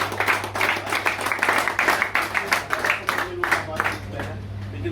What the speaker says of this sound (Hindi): जोरदार ताली चौधरी साहब के।